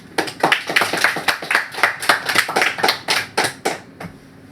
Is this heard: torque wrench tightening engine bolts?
no